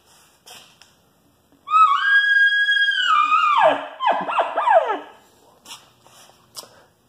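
A voice imitates a spike bull elk's bugle: a high, rising whistled squeal that breaks into descending chirps, followed by faint rustling.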